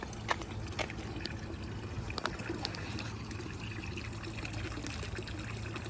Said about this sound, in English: when all those bubbles hit the water, it adds oxygen to the water